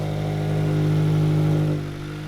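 A Subaru BRZ engine with a newly installed JDL 4-2-1 header idles steadily with a low, throaty exhaust rumble, close by, then settles slightly quieter near the end.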